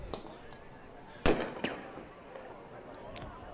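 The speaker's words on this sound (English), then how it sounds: "Fireworks are going off." Fireworks bursting at a nighttime high school football game: a sharp loud bang, then a smaller pop and a faint crackle, heard at a distance over crowd and field ambience.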